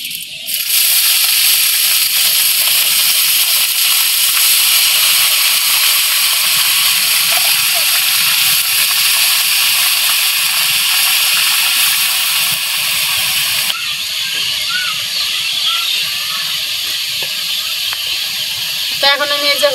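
Banana stem dropped into hot oil with already-fried onions, giving a loud, steady sizzle and hiss that holds throughout, with a brief shift partway and a few light clinks near the end.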